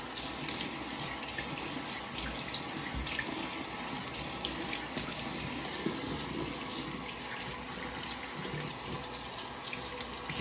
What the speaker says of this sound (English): Do a nice warm water rinse.